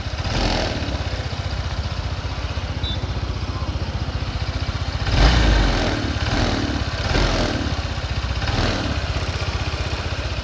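A Honda PCX scooter engine idles with a steady rapid putter, rising in a few brief throttle revs and settling back down, close and alone without talk.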